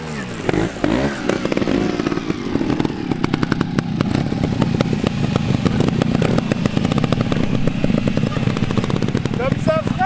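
A Vertigo Nitro trial motorcycle accelerates hard, its engine snarling in a loud, rapid, pulsing rattle that holds close and strong throughout, with a voice talking over it.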